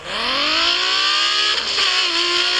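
Sports car engine in an off-road winter 4x4 video game revving hard and continuously, pitch climbing steadily as it accelerates, loud and close with no talk.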